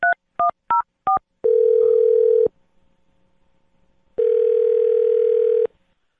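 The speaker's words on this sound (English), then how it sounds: "I'm going to dial his phone number right now" Four quick two-tone keypad beeps of a telephone being dialed, followed by two long, steady ringback tones separated by a short silence, clear and close with no talking.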